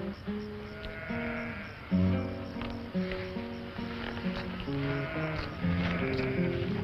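Several sheep bleat repeatedly, their calls overlapping at fairly close range with short pauses between the cries.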